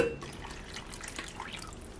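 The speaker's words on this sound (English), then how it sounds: "So I'm going to top it off with more water." Water poured into a hot pot of simmering homemade chicken soup, a steady close splashing pour that runs briefly with no talking.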